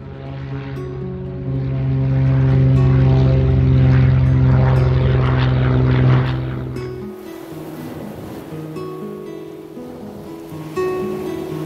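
A propeller airplane lands at the only airport in the Lakshadweep islands. A loud, droning engine roar holds for several seconds, then drops away to a quieter hum with a wash of ambient noise.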